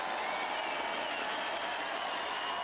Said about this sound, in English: you can hear the crowd roaring in behind